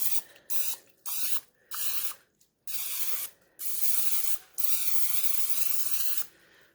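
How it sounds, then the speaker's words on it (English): Food Club cooking spray hisses onto a pan in about seven short, sharp bursts of similar length, close and loud, the last burst held longer than the rest. "So first thing you want to do is spray your pan."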